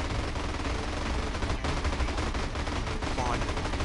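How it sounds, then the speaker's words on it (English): Sustained machine gun fire from the video game GTA San Andreas, a dense and loud rapid burst that runs without a break across the whole stretch, with faint game sounds mixed in. "I like how it's telling me how to fire my machine guns."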